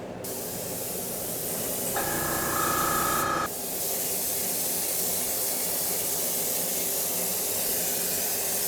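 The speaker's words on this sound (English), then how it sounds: "start getting our first coats of paint on" Aerosol spray can laying a first light coat of purple paint on an RC car body, a steady close hiss with a brief louder burst in the middle.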